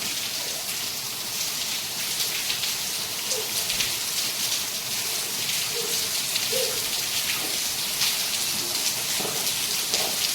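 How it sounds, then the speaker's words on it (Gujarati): Steady rain pours down continuously, a dense hiss of drops on surfaces throughout, with no talking. "કેટલો વરસાદ આવ્યો હારું"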